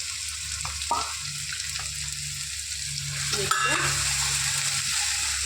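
Green chilies stirred in a frying pan, a loud steady sizzle with scraping strokes of a spatula, close up and continuous.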